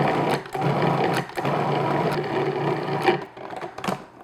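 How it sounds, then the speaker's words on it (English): Food processor whirring as it blends room-temperature full-fat cream cheese until smooth, a steady close motor buzz with brief dips and bumps as the mixture churns. "And I'm just going to process that until it's nice and smooth."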